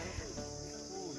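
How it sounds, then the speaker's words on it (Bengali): Crickets chirp in a national park, a brief steady trill at moderate distance layered over a faint background of other natural sounds. "আর ঝিঝি পোকার ডাক তোমরা শুনতে পাবে।"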